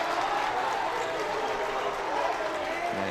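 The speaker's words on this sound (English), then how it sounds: "the New Canaan sideline now going to cheer a little" A basketball crowd on the New Canaan sideline during a boys' high school game against Darien, a dense, even roar of cheering and clapping in a gym, with a commentator talking over it.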